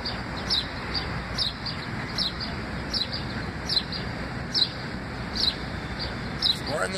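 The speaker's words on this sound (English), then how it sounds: "And the birds are chirping, they're about to put the sun up." Birds calling at dawn in summer heat, a repeated short chirp sounding at roughly regular intervals over a steady broadband background hiss.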